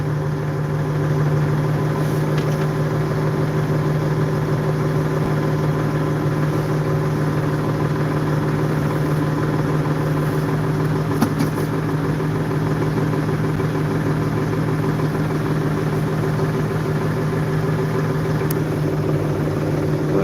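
A mini tractor's engine runs steadily while reversing, a loud, close, continuous mid-pitched hum with no break across the whole stretch.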